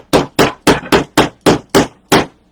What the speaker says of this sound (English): hammer it a little bit